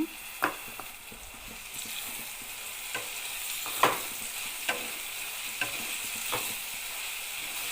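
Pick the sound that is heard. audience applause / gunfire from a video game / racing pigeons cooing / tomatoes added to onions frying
tomatoes added to onions frying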